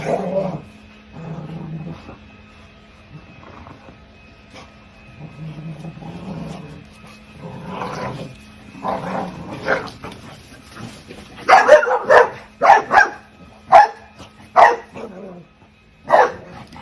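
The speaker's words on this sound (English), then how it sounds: "I just want you guys to hear the sounds that the dogs are making." Several dogs at play bark and yip in irregular bursts, starting with deeper woofs and building toward sharper, louder, high-pitched yips near the end, close by with no talk over them.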